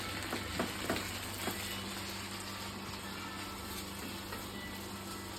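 Chicken curry masala frying steadily in a pan, a continuous close sizzle with a few soft scrapes of stirring, no voices.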